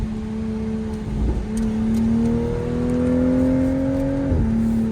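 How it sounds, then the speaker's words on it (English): The 3.0 engine of a 2024 Toyota Supra MK5 blips twice on paddle downshifts. Each shift brings a quick jump in revs, followed by a sustained, climbing engine drone heard from inside the car with no talking. "So I downshift once. Downshift twice."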